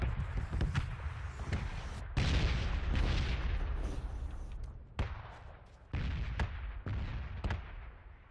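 Rapid bursts of gunfire from an Xbox shooter game, loud and dense with booming shots and short pauses, continuing steadily throughout.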